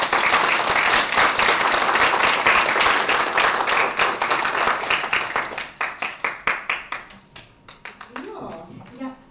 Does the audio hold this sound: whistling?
no